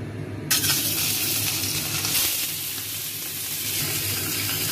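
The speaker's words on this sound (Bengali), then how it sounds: "এখন দেখো আমি প্রথমেই মাছের মাথাটাকে ভালো করে ভেজে নিচ্ছি" Fish head frying in hot oil in a kadai gives a loud, steady sizzle that starts abruptly and holds throughout, with no talking.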